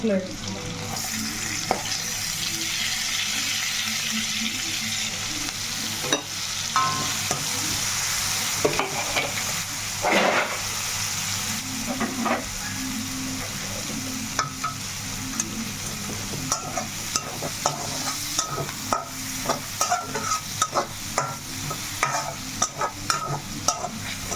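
Onions frying in oil in a pan for a dry fish, brinjal and tomato curry, a steady sizzle broken by repeated scraping and clacking as a spoon stirs them, close and loud.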